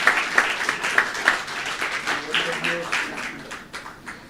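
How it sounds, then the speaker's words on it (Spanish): A church congregation applauding, a burst of clapping that starts sharp and loud then thins out, with a voice speaking partway through. "Um aplauso para o caballero, o líder caballero que é ajudante não."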